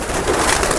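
Soft cooing from pigeons blends into a steady rustling hum of many birds close by, with no pauses.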